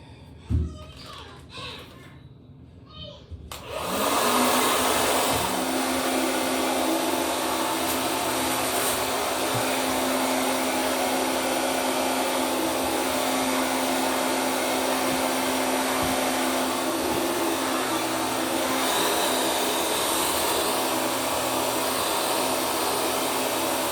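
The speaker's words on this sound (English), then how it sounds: "then I'm gonna diffuse it. I got this from Sally and my dryer from Sally also." After a few seconds of handling noises, a hair dryer fitted with a diffuser switches on and blows loudly and steadily close by for the rest of the clip.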